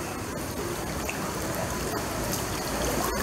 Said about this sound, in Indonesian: Oh, hujan makin lebat.